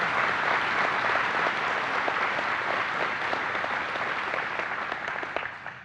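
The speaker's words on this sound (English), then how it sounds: "Let's have a round of applause for these exceptional engineering achievement medals." Sustained applause from a large audience at a NASA Marshall agency honor awards ceremony, dense and even clapping held steady for several seconds before tapering slightly at the end.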